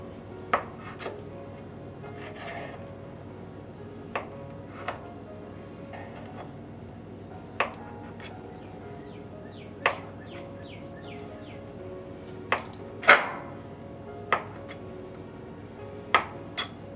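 A knife cuts through a sheet of fresh homemade pasta dough on a board, sparse sharp taps spaced irregularly over a quiet background, close and fairly soft, with no voices.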